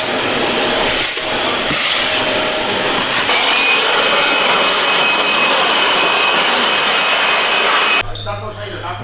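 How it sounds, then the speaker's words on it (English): A steady, loud whooshing roar of a vacuum cleaner running continuously inside a car, picking up drilled metal shavings, close by, cutting off abruptly near the end. "You have to vacuum the car because any metal shavings and stuff can rust."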